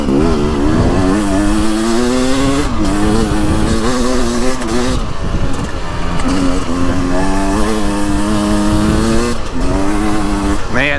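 A 2024 Beta 300 Race Edition two-stroke dirt bike ridden over choppy, muddy trail, its engine buzzing loud and close throughout with steady revving and rising, falling pitch as the throttle is worked.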